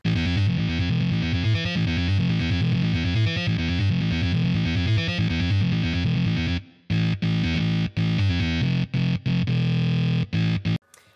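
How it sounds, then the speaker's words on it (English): A gritty, distorted electro bass from Logic's ES1 synth plays a driving pattern, then cuts into choppy stabs with short silences between notes; no voices. "how to make a really throaty style electro bass"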